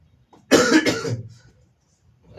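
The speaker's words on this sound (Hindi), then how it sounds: "खांसी इतना हो रहा नहीं आज" A single close, loud cough burst fading into a short throat-clearing tail, set in a quiet room during a math lesson on inverse trigonometry.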